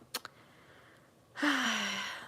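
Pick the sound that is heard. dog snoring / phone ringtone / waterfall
dog snoring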